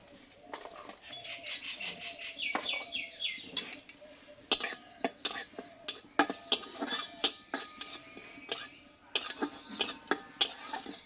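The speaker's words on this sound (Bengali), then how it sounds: "আমি কিছুটা কাসুরি মেথি হালকা করে ভেজে নেব" Kasuri methi is stirred in a lightly heated kadai; a metal utensil clinks and scrapes against the pan in irregular, fairly close strikes, with quicker clatter toward the end.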